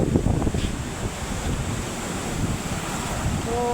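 Heavy flow of water on the Sabarmati river near Sadoliya, Prantij, a steady broad rushing roar mixed with wind buffeting the microphone and a faint tonal hum near the end.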